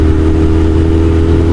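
Ducati motorcycle exhaust, a loud steady low rumble at idle or light throttle, close to the microphone and continuous with no speech over it.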